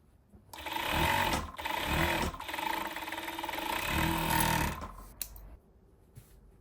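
A sewing machine finishes the raw edges of baby pants with an overlock stitch, running in close, loud whirring bursts with short pauses before it stops near the end.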